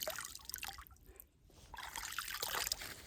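Quiet trickling water flowing into a pond and splashing steadily, briefly dropping away in the middle before returning, faint and close.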